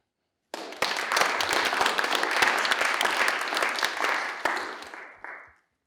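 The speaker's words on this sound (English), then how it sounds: "Round of applause." Audience applause after a music and film composition talk, a dense, full round of clapping that starts suddenly, holds steady for several seconds and fades out.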